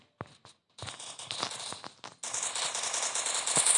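Gunfire crackles in CS mode of a shooting video game, starting with a few sharp isolated shots and building into a dense, continuous rattle of rapid fire.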